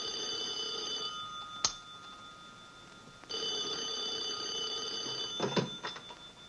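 An old telephone bell rings in two long bursts separated by a short pause, with a sharp click and clatter at the end as the receiver is picked up.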